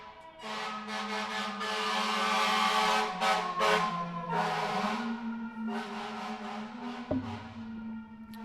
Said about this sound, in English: Let me wait for the siren.